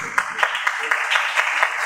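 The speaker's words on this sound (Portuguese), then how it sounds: "Vamos aplaudir." Audience applause at an evening lecture on medicine and faith, steady dense clapping with a few sharper peaks, filling the whole short stretch at moderate loudness.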